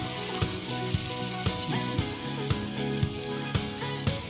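Tomato gravy with chopped onion sizzles and bubbles in a kadhai, a steady frying hiss broken by regular clicks of a spoon stirring against the pan.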